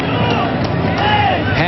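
A soccer stadium crowd at a 1999 Women's World Cup semifinal between the USA and Brazil rumbles in disapproval, a dense, steady roar under a commentator's voice.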